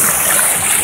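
A huge waterfall on a forest trail, a loud, steady, close roar of rushing water filling the whole moment without a break.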